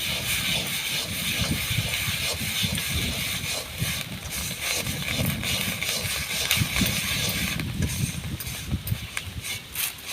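Rice roasting in a pan for traditional Bengali puffed rice (muri) gives a dense, steady crackling hiss with scattered sharp pops, close and continuous, with no one talking.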